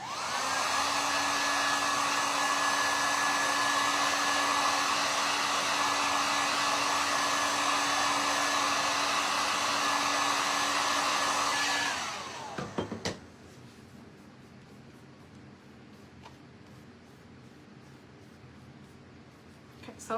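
A hair dryer drying a craft wall hanger made from a metal jar blows with a steady loud whine, then cuts off abruptly, leaving a quiet room with small handling clicks.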